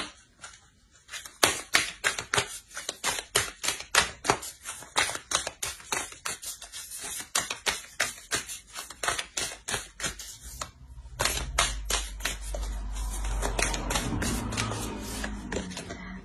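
Oracle cards shuffled and drawn in a French-language tarot reading for Pisces: a long run of crisp, rapid card riffles and snaps, close and loud, followed by a softer rustling, with no talking.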